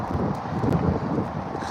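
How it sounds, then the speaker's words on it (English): Wind buffets the microphone in a steady, low rumbling gust, with no voices. "oh, windy"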